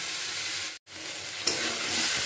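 A dish is stirred and fried in a pan, giving a continuous close sizzle with scraping stir sounds and a brief gap partway through.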